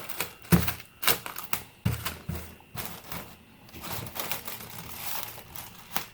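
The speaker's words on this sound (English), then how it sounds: "So what we do is just cut off a piece here, and just like the name says, it's press and seal." Glad Press'n Seal plastic wrap is pulled and torn off its roll while setting up a ball python egg tub, giving close crinkling bursts and sharp tearing snaps with short pauses between.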